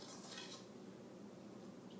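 Faint scraping and clinking of a utensil against a bowl as dried rosemary is stirred into biscuit dough, quiet and soft with a brief brighter scrape near the start; no voices.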